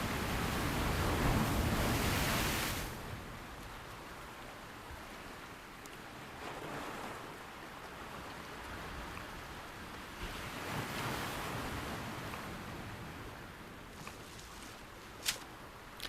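Ocean waves wash onto a beach once used by fishermen, a steady roaring surf with wind buffeting the microphone and a louder surge near the start.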